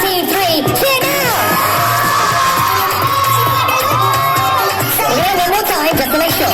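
A large crowd cheers and whoops loudly at a team event, with children shouting in the mix, a dense and continuous roar that stays strong throughout.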